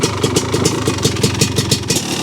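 A 1985 Honda ATC 250R three-wheeler engine, freshly rebuilt and suspected of stuck rings and a lower-end noise, runs close up with a loud, fast, rhythmic two-stroke putter and a metallic clatter pulsing through it.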